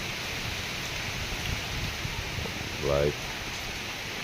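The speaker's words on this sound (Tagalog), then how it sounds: "Malakas ang ulan. May kasamang hangin." Heavy rain pours steadily with gusting wind, a dense continuous wash of noise near a stand of coconut and banana trees, and a brief voice speaks once partway through.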